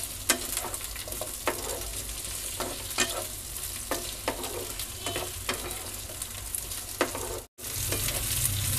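Capsicum and onion stir-fry in a pan with a steady sizzle, and a spatula scrapes and stirs at regular intervals with sharp clattering strokes. Near the end there is a brief silent gap.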